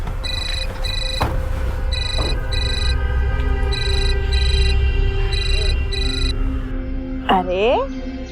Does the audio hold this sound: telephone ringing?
yes